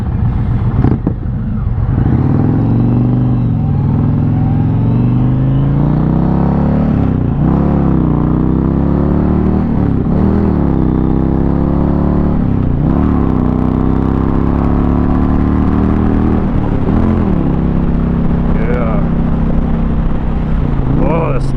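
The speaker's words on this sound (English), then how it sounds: "Oh, this bike sounds so good." Indian Challenger motorcycle engine riding on a road, a loud steady drone with rising and falling revs through repeated gear changes, wind noise throughout and people talking over it.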